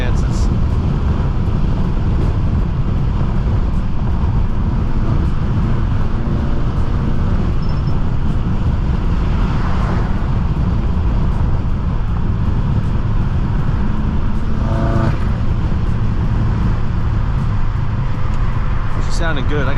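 Inside a BMW M6 driven hard on the road, a loud, constant low engine and road roar with wind noise dominates throughout, with a few brief rising revs or shifts mid-drive.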